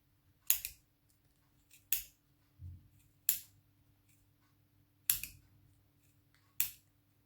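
Five sharp scissor snips through yarn on a Clover pompom maker, spaced a second or so apart, each a crisp cutting crunch close by, with quiet pauses and a soft thud between.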